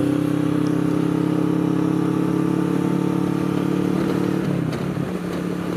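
A motorcycle engine's steady rumble is picked up by a small iPhone microphone mounted in a rider's helmet, a loud, continuous idle drone that shifts and dips slightly near the end.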